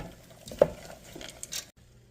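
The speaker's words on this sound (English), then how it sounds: "now let's add our vegetables. Let's stir those in." Vegetables being stirred into a pot of sausage soup, giving soft scraping and clinking of a spoon against the pot with one sharper knock, close and moderately loud, fading out at the end.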